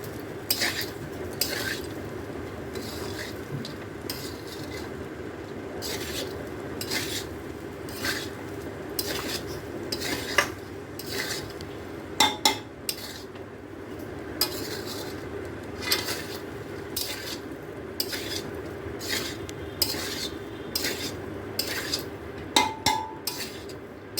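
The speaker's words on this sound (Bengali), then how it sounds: "ভেজে রাখা কাজু আর কিশমিশ। এবার ভালো করে এটা মিক্স করে দেবো।" A spoon stirs fried cashews and raisins in a pan, making a quick run of clinking scrapes against the metal that grows busier toward the end, with no talking.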